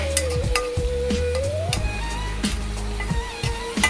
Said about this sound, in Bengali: রসুনটা দিয়ে একটু নাড়াচাড়া করব।